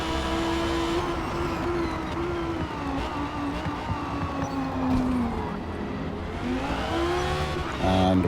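A Porsche 911 GT R-class race car accelerates at Indianapolis, its engine droning loud and continuous while the pitch climbs and falls through gear changes, with a rise in intensity near the end.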